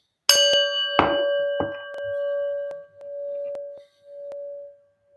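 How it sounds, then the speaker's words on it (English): A prayer bell is struck, giving a bright metallic ding that rings on with a steady, pulsing tone and slowly fades over several seconds; no voices. "we're going to ring the prayer bell"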